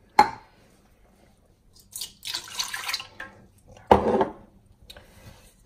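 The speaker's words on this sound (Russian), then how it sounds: "Теперь воды. Воды где-то 300 грамм." Water pours into a bowl of flour for belyashi dough in a few short splashing bursts, close and separated by quiet pauses, with no talking.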